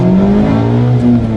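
A Mazda MX-5 with a 2-litre four-cylinder engine revs hard, a loud, close, smooth engine note that holds high and shifts pitch slightly across the short burst, with no voices.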